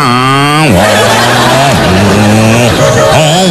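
A motorcycle engine revs repeatedly, its pitch dropping and climbing in several bursts, loud and close, with a harmonic, buzzy exhaust tone.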